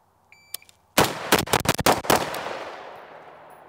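A 9mm pistol fires a rapid string of about eight close, loud gunshots in a quick rhythm during a timed shooting drill, preceded by faint timer beeps and leaving a ringing echo.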